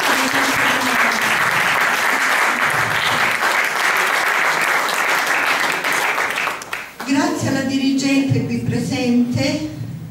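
Audience applause at a public event in Patù, Italy: sustained, dense clapping from a crowd filling most of the clip, then fading as a voice speaks over the tail.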